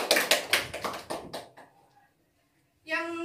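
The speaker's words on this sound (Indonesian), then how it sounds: "Berikan tepuk tangannya." A small university microteaching class claps briefly, a quick patter of close hand claps that fades within about two seconds, followed by silence before a voice begins speaking.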